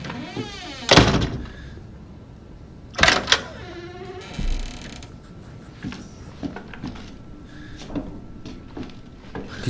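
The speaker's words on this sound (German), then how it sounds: "Die Tür geht nicht weiter offen." A creaking door is pushed open in the horror game Resident Evil 7, with sharp knocks and thunks, a drawn-out creak, a heavy low thud and quieter mechanical clatter behind it.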